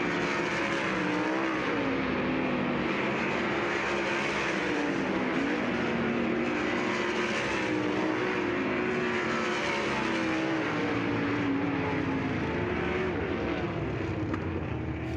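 Dirt track race cars run hot laps at Lucas Oil Speedway, a loud constant engine roar with rising and falling revs as cars circle the oval, sustained and fairly distant, with no voices.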